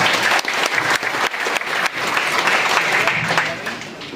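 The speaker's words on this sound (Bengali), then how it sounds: "একটা জোরে হাততালি দেন, হাত তুলে তালি দেন সবাই" A crowd claps loudly and continuously, a dense wash of hand claps holding steady for several seconds with no voices over it.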